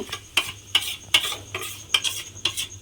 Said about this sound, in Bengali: দুধের সঙ্গে এই সুজিটা কিন্তু খুব ভালোভাবে মিশিয়ে মিশিয়ে নেড়ে একটু ঘন করে নিতে হবে